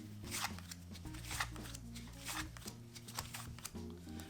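Playing cards are dealt from the bottom of the deck in quick, repeated papery flicks and slides, soft and close, with faint low instrumental music underneath.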